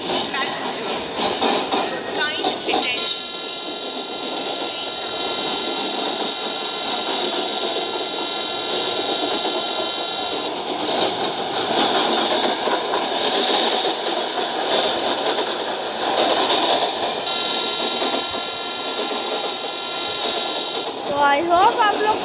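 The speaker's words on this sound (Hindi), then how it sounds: "आई होप आप लोग को ट्रैक साउंड आ रहा होगा।" Continuous rumble and rail clatter of a train departing Chennai Central in an Indian train simulator game, steady and loud throughout with engine drone underneath.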